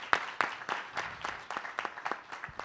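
Sparse applause from a small audience at a business event, with a handful of separate claps spaced out over a few seconds, faint and somewhat distant.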